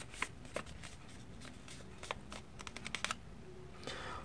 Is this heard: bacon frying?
no